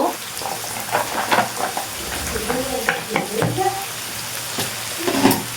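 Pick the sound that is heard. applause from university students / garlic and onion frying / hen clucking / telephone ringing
garlic and onion frying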